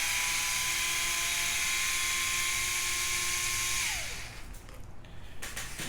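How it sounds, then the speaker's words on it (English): Motorized screwdriver or drill whining steadily while backing out screws on the front bumper of an Arrma Granite 4x4 3S BLX RC car, loud and close, pitch dropping as the motor spins down near the end. "Unscrew front bumper."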